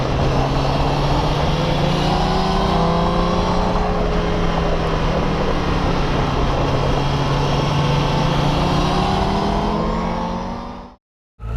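A 2017 Honda CBR1000RR Fireblade SP motorcycle at speed, its engine droning loud and steady with rising and falling pitch as it accelerates and shifts, wind noise throughout, cutting out abruptly near the end.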